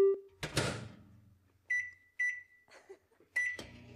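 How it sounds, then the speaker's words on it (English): A household microwave oven hums briefly, then gives several short electronic beeps in a quiet room, with clunks of handling between them. "No using the microwave."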